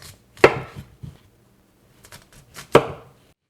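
A knife cutting a peeled chayote squash in half on a board, two sharp close chops with light scraping between them and quiet pauses.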